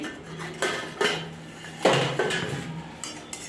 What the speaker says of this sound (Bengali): ঢাকাটা খুলে নেবো দেখি